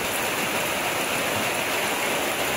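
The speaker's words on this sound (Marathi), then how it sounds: "मरणाचा पाऊस आहे मरणाचा." Heavy rain pours steadily in a village in Konkan during the monsoon, a dense, loud, unbroken hiss of water drumming close by with no pauses and no voices.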